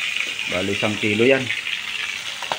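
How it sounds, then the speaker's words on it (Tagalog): A salmon head fries in a pan with a steady, bright sizzle running under a person talking close by. "Bago natin siya isigang, iprito muna natin siya ng kunti para masarap."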